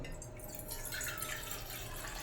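Water drips and trickles into a pot on a gas stove while tea is being made. The sound is soft and steady and close by, with no one speaking.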